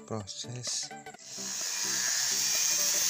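Someone speaks briefly, then a wood carving of an old man's face is rubbed with 600-grit sandpaper, a steady close scratching hiss that builds and continues alone.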